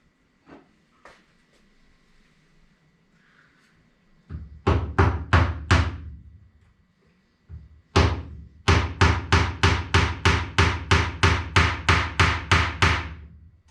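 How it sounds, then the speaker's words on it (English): A hammer drives a clothespin into a picture board with sharp, ringing wooden blows: a few light taps, a burst of five strikes, then a steady run of about a dozen evenly spaced hits, loud and close. "I'm just going to hammer it in that way"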